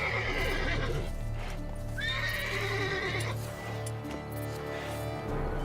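Horse in the video game The Witcher 3, with steady clip-clop hoofbeats and a clear neigh and whinny standing out over a constant game backdrop, with no talking.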